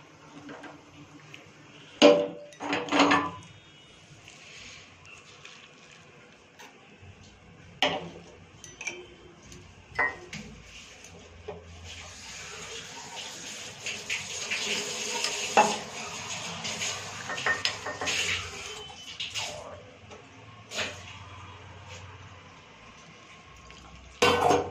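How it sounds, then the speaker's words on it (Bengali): Freshly boiled tea is strained in a home kitchen, with quiet pouring and scattered sharp clinks and taps of metal utensils against a pot over several seconds. "চা আমার হয়ে গেছে আমি ছেঁকে নিচ্ছি"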